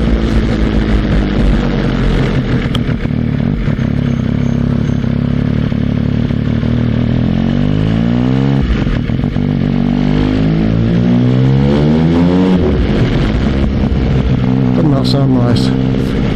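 A motorcycle engine on the road near Burley under the A31, running loud and steady throughout with rising and falling engine pitch as it accelerates and eases off, wind and road noise mixed in.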